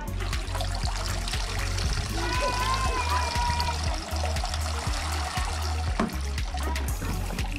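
Water trickles and splashes steadily in a children's outdoor water play table, a continuous liquid dribble with light splatters over a low rhythmic thumping background.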